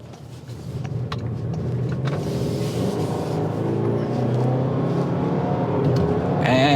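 A 2026 Toyota RAV4 pulling through a right turn under light acceleration, its engine note rising steadily and growing louder as the SUV gains speed, heard from inside the cabin with no talking.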